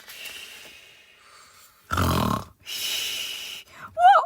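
A voice imitates snoring: a loud, rough snore, a second drawn-out breathy snore, then a short squeaky snort at the end.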